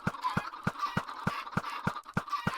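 Minecraft chickens clucking in a rapid, even rhythm, about ten sharp low clucks in under three seconds over a faint higher chatter, close and moderately loud.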